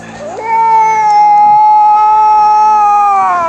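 A cat in a horror film lets out one long, loud, drawn-out yowl that rises at the start, holds steady for about three seconds and then fades slightly.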